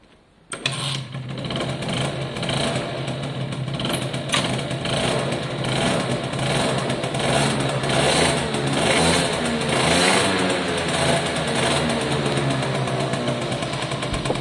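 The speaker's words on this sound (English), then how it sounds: "I'm going to fire it up again and we'll let it sit a few minutes" A Suzuki AP50 50cc two-stroke engine catches after a short quiet moment and settles into a steady, buzzy idle with a slight wavering rise and fall in pitch, heard close up and alone.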